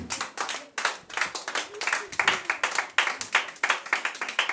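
A church congregation clapping together in a quick, steady rhythm, close and continuous, with voices faintly mixed in.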